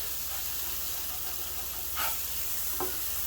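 A brisket burger patty sizzles on a Blackstone 22 inch griddle, giving a constant close hiss with two short flares of louder spitting partway through.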